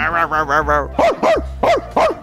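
A dog dressed in a hoodie gives a few short yapping barks close by, four quick yips in an uneven rhythm after a sustained whining tone, with a person's voice nearby.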